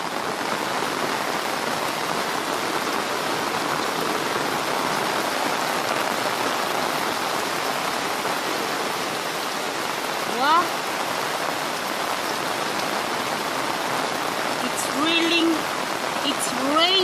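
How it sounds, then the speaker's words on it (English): Heavy rain pours down in a village in Kenya, a dense, steady hiss of drops on surfaces, with a brief voice and a few bird-like chirps rising over the downpour. "This is what we are undergoing here in the village. Heavy rains"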